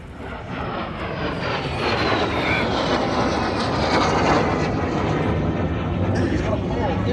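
A T-33 jet aircraft performs at an air show, its engine a continuous loud roar with a slowly shifting whine as it passes overhead, while a commentator talks throughout.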